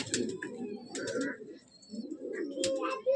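Madrasi pigeons in a breeding loft coo in close, throaty bursts that pause briefly midway, with a few sharp higher chirps and rustles breaking in.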